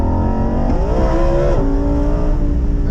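A Lamborghini Huracan EVO Spyder on a race track at Canadian Tire Motorsport Park, its engine loud and close as it accelerates hard, the pitch climbing, dipping briefly at a shift, then rising again, with no talk over it.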